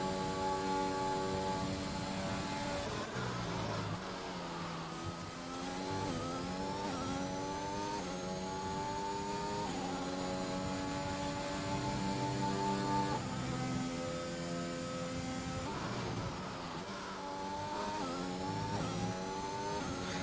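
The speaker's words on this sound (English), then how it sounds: "let's just take a moment to appreciate the noise of the Mercedes power unit" Mercedes Formula 1 power unit in the F1 2021 racing game at the Russian Grand Prix, a loud continuous engine whine rising and falling through gear changes and revs, with no talk over it.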